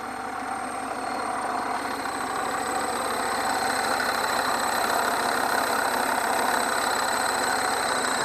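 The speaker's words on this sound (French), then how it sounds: "Là le moteur remonte dans les tours" A Citroën BX 16 TZS engine climbs in revs with the wheels turned to full lock, a steady mid-pitched drone that swells slightly and holds close and continuous with no talk.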